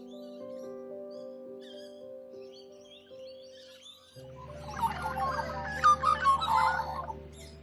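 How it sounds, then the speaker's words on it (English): Magpies call on an autumn morning outdoors under a large tree. Chattering bird calls, some loud and close, come in over a low steady hum after a quieter opening with faint tones. "my magpie friends have much to say"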